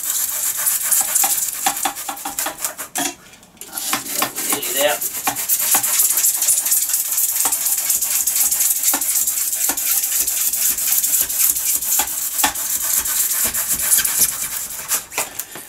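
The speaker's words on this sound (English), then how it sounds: "I've now cut my sheet in half" A knife drawn repeatedly through a sheet of material for tabletop wargame terrain tiles makes a continuous, close rasping scrape of fast strokes that runs on with only a short pause early on.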